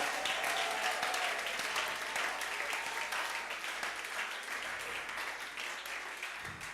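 A church congregation applauds steadily to acclaim the Lord, a dense and continuous wash of clapping that fills the room from start to finish.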